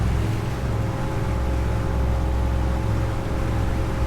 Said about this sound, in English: So we're giving up on the sailing now to do some engine trials.